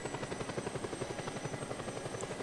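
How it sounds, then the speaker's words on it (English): Steady rhythmic rotor thump and engine drone of a helicopter in flight in Just Cause 2, constant and fairly loud, with no talking. "Wish helicopters were a little bit faster in this game."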